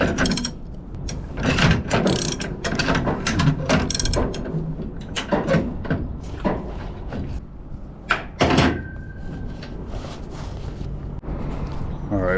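Ratchet straps cranked tight over steel coils on a flatbed trailer outdoors, bursts of rapid metallic clicking and clanks mixed with wind, with someone talking between them.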